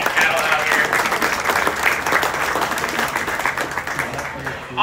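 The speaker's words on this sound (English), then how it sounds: "Let's give it a real good round of applause just for some quality fat cattle out here." A crowd at a county fair beef show applauds fat cattle in the ring, a steady round of dense clapping that lasts several seconds and sounds close and loud.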